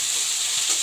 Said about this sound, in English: I will fry this and then make the curry